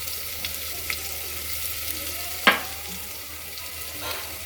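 Ginger garlic paste frying steadily in oil in a pan, with a sharp clink of a utensil midway and light stirring noises.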